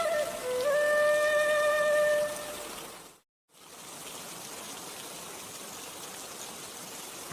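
Steady rain falling outdoors, a broad continuous hiss that holds through most of the stretch, breaks off briefly in the middle, then resumes at an even level with no voices.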